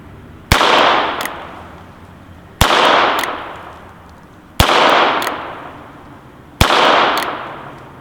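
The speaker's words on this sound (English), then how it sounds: "Ruger Bearcat. Let's see if it'll shoot." Four sharp, loud gunshots from a Ruger Bearcat revolver, evenly spaced about two seconds apart, each followed by a short ringing decay and a faint secondary ping.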